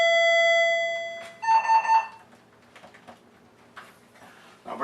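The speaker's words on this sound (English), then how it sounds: "All those beeps you're hearing are the test beeps of these units" DIY home alarm kit sensor units, including door magnet sensors, give loud electronic test beeps: a long steady tone, then a quick burst of short beeps, followed by quieter handling clatter, with no talk.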